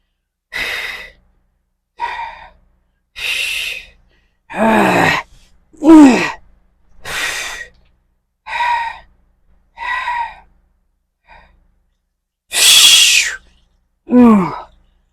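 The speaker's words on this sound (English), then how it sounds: "I'm already at that point where I need to breathe hard." Hard breathing during a strength training workout: about a dozen loud, close gasps and exhalations, some sliding in pitch like groans, spaced roughly a second apart with silence between them.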